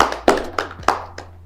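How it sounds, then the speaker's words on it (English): A few distinct hand claps ring out slowly and unevenly, about five sharp slaps spaced apart, near and fairly loud, with a low steady hum underneath. "So give her applause more."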